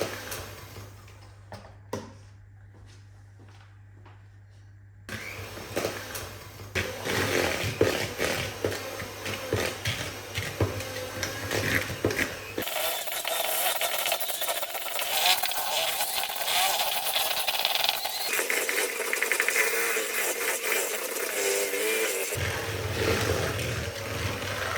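A handheld electric mixer beats coconut loaf cake batter in a bowl, its steady whirring drone running loud and continuous for most of the stretch after a quieter opening, with shifts in pitch as the beaters move.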